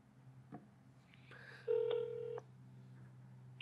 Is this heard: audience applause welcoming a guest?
no